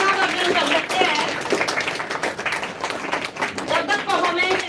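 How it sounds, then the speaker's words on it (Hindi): Audience at a school annual day celebration claps continuously in a hall, a dense, moderately loud patter of many hands that rises and dips slightly and carries across the whole moment. "तालियों से उनका थोड़ा सा उत्साहवर्धन कर सकते हैं"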